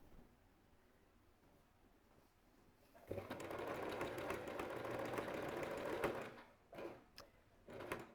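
Sewing machine stitching one side of a blouse collar, taking care to avoid the lace trim on the other side; after quiet, the motor runs steadily and close for about three seconds, then stops and starts in short bursts.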